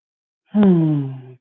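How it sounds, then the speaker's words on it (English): A single deep breath taken during a wall yin yoga hip-press pose, a close, audible voiced exhale lasting about a second with no talking. "Breathing deep."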